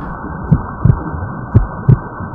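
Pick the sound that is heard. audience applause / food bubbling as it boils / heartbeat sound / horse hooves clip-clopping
heartbeat sound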